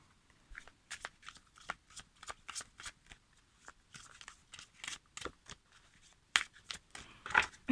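Playing cards shuffled in quick riffling bursts, a steady run of crisp snaps and flutters up close that grows louder and denser near the end, with no talk.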